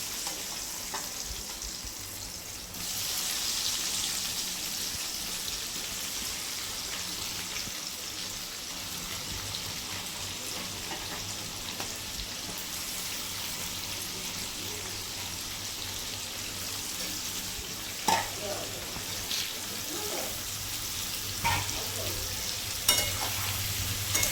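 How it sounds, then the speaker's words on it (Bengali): Mango pieces rubbed with turmeric and salt frying in oil for mango pickle, a dense, steady rain-like sizzle held close and even for a long stretch, with a few faint clicks near the end and no voices. "এখন আমটাকে ছেড়ে দেবো তেলের মধ্যে"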